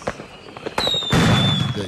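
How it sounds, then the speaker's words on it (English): Fireworks played as a mystery sound in a radio guessing game: a high whistle rising then a loud booming burst with crackling, preceded by several smaller pops, close and loud. "can Omar identify the firework?"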